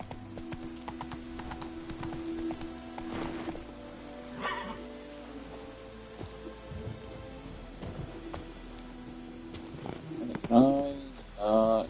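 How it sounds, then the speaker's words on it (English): In The Witcher 3: Wild Hunt, a horse gallops with a steady clip-clop of hooves under a soft rain-like patter, ending in a brief whinny near the close. "Run, Roach."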